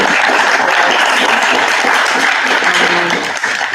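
Steady, loud applause from an audience at the close of an open forum discussion, continuous clapping with a faint voice underneath.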